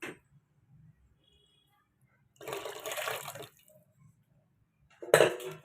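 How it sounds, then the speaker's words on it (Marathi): Water pours into a pot in a short burst, then a second brief splash follows after a pause; quiet background with no talking. "मग सगळं टाकून द्यायचं आपण घेतलेलं तेवढं आमटीचं पाणी"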